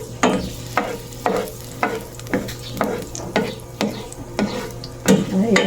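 Garlic frying in a non-stick pan, with a steady sizzle under a series of sharp, regular stirring scrapes roughly every half second, close and fairly loud.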